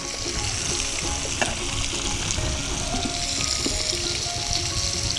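Parrot fish frying in a pan, a steady dense sizzle of hot oil running throughout with faint scraping, no talking.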